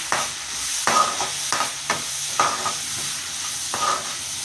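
A spoon scraping and stirring in a pan of Telugu fish curry (chepala pulusu) with oil, onion, green chilli, salt and turmeric, in steady rhythmic strokes about every half second over a soft frying sizzle.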